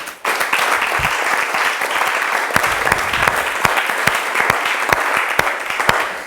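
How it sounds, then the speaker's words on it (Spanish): An audience at a Bible institute church class on Romans bursts into sustained, dense clapping that holds steady and loud for several seconds. "Dale un aplauso a Cristo."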